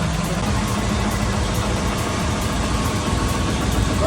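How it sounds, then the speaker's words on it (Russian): Steady, loud engine drone from a motor running on gas produced from waste in a gasifier, a constant low rumble with a faint rhythmic pulse throughout and no voices. "Работает на газе, на газогенератор, на электролизном газе. Фактически на мусоре горит. Работает двигатель."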